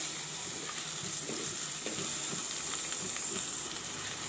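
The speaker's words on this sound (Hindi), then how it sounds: "बस एक मिनट तक हम मटर को भून लेंगे अच्छे से" Peas sautéing in a pan with onion and shredded cabbage for murmura poha, a steady soft sizzle with occasional light stirring scrapes, close and continuous with no talk.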